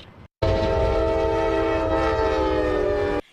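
A loud, sustained train horn blares for about three seconds over the low rumble of a passing train, with no voices.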